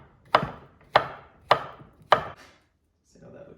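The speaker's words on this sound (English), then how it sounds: "So I'm going to start with the banana first. I'm just going to simply cut that into slices." A knife cuts banana slices on a board in four evenly spaced, crisp chops near the mic, followed by a faint soft rustle, with no talking.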